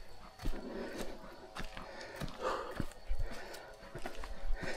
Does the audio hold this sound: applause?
no